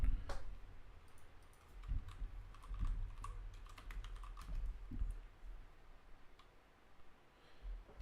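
Keys clatter on a full-size computer keyboard in irregular bursts of close clicks and taps, with a few heavier keystrokes standing out against quiet room noise.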